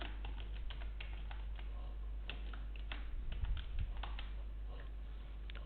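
Someone types a name into an online scholarship form on a computer keyboard, producing quiet, irregular key clicks in short runs over a low, steady background hum.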